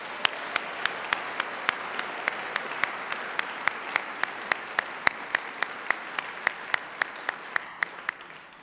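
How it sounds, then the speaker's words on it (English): Awards ceremony audience at a string quartet competition applauding steadily for several seconds, a dense wash of clapping with sharp individual claps punctuating it, no voices. "Big round of applause for all 7 of those groups."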